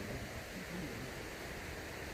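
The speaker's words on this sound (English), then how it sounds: "I've never seen so much waterfalls in one place." Rushing water from waterfalls along the Rivelin valley in Sheffield, a steady broadband roar filling the whole moment without break, with no voices over it.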